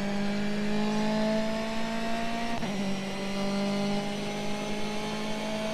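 A BMW race car engine in Grid Autosport screams at high, steady revs, dips sharply at one upshift midway, then climbs again. The tone is continuous and buzzy with no voices.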